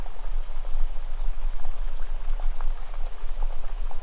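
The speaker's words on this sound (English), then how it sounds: "as the rain sounds heavier and heavier" Heavy rain falls steadily and densely, a constant loud hiss with scattered individual drop splashes standing out, close by and alone without any voices.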